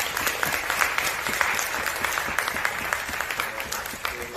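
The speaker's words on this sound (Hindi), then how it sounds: "मैं रिक्वेस्ट करूंगा आपसे कि एक बार जोरदार तालियां इनके लिए भी आ सकें" Steady applause from an audience at an award ceremony honouring Urdu criticism, dense and even for about four seconds with no voices over it.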